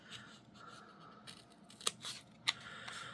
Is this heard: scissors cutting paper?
yes